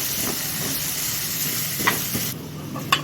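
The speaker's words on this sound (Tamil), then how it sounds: "இப்போ நம்ம கேபேஜ் ஆட் பண்ணுறோம். ஆனியன், கேப்சிகம், இஞ்சி பூண்டு பேஸ்ட் கொஞ்சம் கேபேஜ் போட்டிருக்கோம்." Steady hiss and sizzle of cabbage, onion, capsicum and ginger-garlic paste frying in a pan, continuous and close, with a few faint stirring clicks toward the end.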